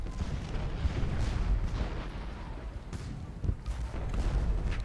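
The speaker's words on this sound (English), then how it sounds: "And some artillery pieces are firing, some are not." Artillery pieces fire during a Civil War battle at Gettysburg in a strategy video game, with scattered booms over a constant rumbling din of battle.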